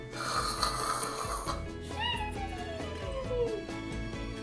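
A voice imitates snoring with drawn-out, rasping breaths over a steady musical backing, fairly loud and close.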